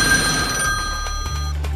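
A telephone rings with a bright electronic bell tone, a close, continuous trill that fades out partway through, followed by a few soft knocks and a low hum.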